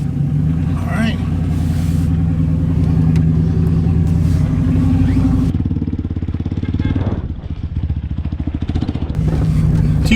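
An off-road truck's engine rumbles loudly and revs up close, the tone climbing and dipping, then cuts out partway before the rumble returns, with people talking and shouting over it.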